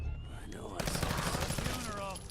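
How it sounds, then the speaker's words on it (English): Rapid automatic gunfire in Fallout 4, a quick burst of shots over about a second and a half, fairly quiet, heard alone. "I love how it sounds like they're on fire for just a moment as you shoot."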